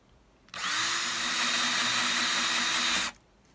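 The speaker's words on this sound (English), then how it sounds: "as you're drilling through these, your drill's going to grab it" A power drill bores through small plastic drawer parts in one steady, close whine lasting a few seconds, starting and stopping abruptly, with no talk over it.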